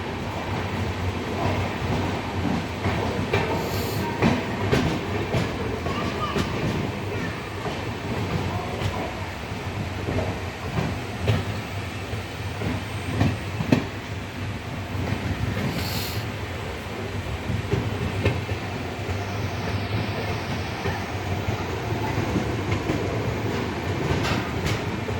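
Superfast train 20959 running toward Vadnagar, a steady, loud rumble of rolling wagons with rhythmic wheel clatter and occasional clanks, heard from inside the moving train throughout.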